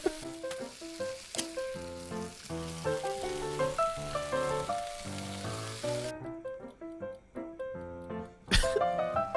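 Food frying and sizzling in the Cooking Simulator game, a steady crackle that runs under bright synth music throughout, with a sharp clatter near the end.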